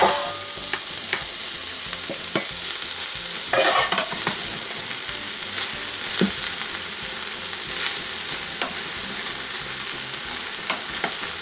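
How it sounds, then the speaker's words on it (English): A spoon stirring cabbage and other vegetables in a soup pot: a steady scraping and swishing with soft sizzling underneath, close and moderately loud throughout, with no talking. "Just give it a good stir."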